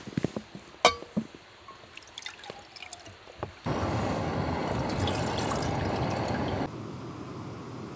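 Fresh stream water is poured at a woodland campsite, with a few scattered drips and clinks, then a steady, close pouring splash for several seconds that tapers into a quieter trickle.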